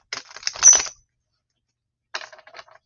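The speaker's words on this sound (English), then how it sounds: "You can answer this while I'm shuffling the cards." A deck of playing cards being shuffled during a card reading, with two bursts of rapid riffling clicks, one around the start and another after a silent pause, close and fairly loud with no talking.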